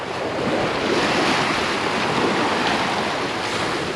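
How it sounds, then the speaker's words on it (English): Waves from a passing ferry wash and crash continuously onto a Lake Erie beach at Kelleys Island, a loud, even roar of surf with wind noise and no voices. "Of course, the waves from the ferry crashing in."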